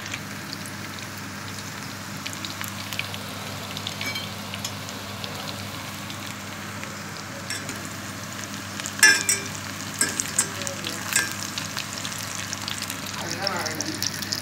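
Cauliflower deep frying in oil in a deep pot gives a soft, constant sizzle throughout, fairly quiet, with a few sharper crackles and clatters in the second half.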